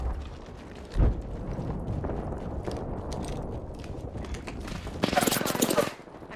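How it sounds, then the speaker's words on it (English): Gunfire in a battle-royale style video game, a loud broadband burst near the one-second mark, then a dense, sustained volley around five to six seconds over a rumbling game background. "I'm taking shots"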